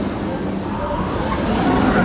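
Revolution roller coaster at Blackpool Pleasure Beach rushing past, a steady broadband roar and rumble that swells slightly toward the end, fairly close and continuous with no talk.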